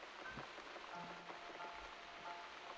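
Steady rain falls in the video game The Cat Lady, an even, faint patter with no voices.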